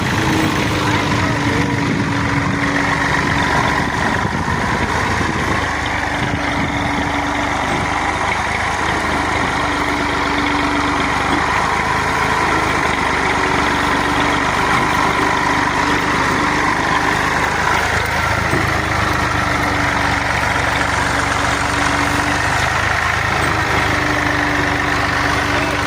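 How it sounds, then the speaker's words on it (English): A tractor engine idles steadily on a farm, a loud continuous rumble with a faint pulsing hum throughout, while voices talk faintly over it. "they drive the tractor."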